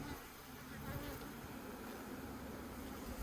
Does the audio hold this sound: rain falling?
no